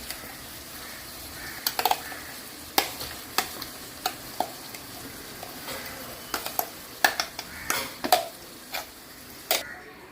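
Onions and a ground paste for Andhra-style gongura pachadi fry quietly in a pan, with a soft sizzle broken by scattered sharp clicks and taps of a spatula stirring against the metal.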